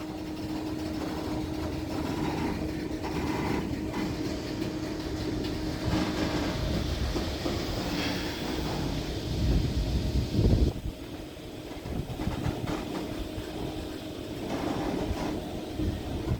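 A freight train begins to move with a low, rolling rumble of engine and railcars, joined by gusts of wind buffeting the microphone; no one speaks.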